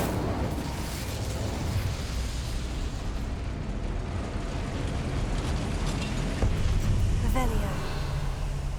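An Incendio fire spell is cast in Hogwarts Legacy, giving dense rumbling bursts and crackling flare-ups throughout, with a brief sharp pop near the end and voices in the game mix underneath.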